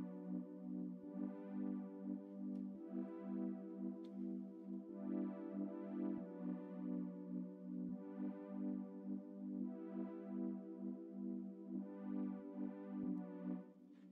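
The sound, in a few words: Omnisphere Warm Wigwam synth pad played alone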